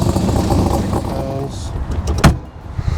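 A 1965 Backdraft Cobra roadster's engine runs nearby with a steady low rumble beneath a man's close-up talking, ending in a brief sharp knock.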